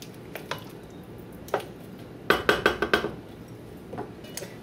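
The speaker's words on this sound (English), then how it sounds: "Give your sauce with the meatballs a stir." Meatball sauce being stirred in a pot: a run of quick metal spoon clinks and scrapes against the pot with soft squishy sauce movement, close and fairly quiet, no talk.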